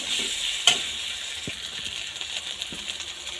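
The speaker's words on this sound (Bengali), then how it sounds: "হলুদটা দিয়ে দিব, তারপরে আদা রসুনের পেস্ট দিয়ে দিব। হালকা নেড়ে" Turmeric and ginger-garlic paste fry in a hot pan, a steady soft sizzle with a few light scraping stirs and one sharp utensil clink near the start; no one speaks.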